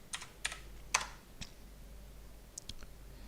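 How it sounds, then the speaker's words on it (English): Typing on a computer keyboard: a few crisp, close clicks of keys in short uneven bursts, quiet and alone in a calm room. "and then I type in student"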